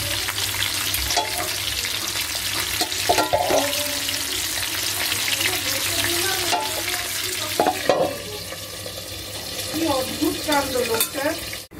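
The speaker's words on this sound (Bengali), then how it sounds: "এই যে মাছগুলো ভাজছি" Fish frying in a pan, a continuous loud sizzle with clattering utensil knocks and scraping throughout, some faint voices and household sounds in the background.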